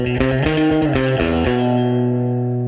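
A distorted electric guitar riff with rapid tremolo-picked notes, ringing chords and a sustained open tone at the end, drenched in effects and reverb.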